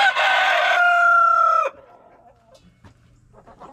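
Chickens near a new galvanized waterer give a loud, close rooster-like crow lasting over a second, followed by quieter scattered clucks and rustling.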